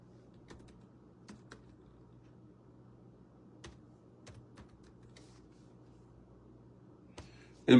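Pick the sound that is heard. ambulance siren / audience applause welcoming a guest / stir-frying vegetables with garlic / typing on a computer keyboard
typing on a computer keyboard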